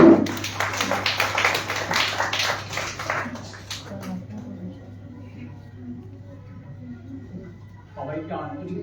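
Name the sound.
audience applause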